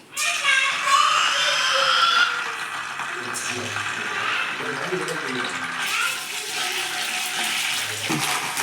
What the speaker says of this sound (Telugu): అల్లం వెల్లుల్లి పేస్ట్ బాగా వేయించిన తర్వాత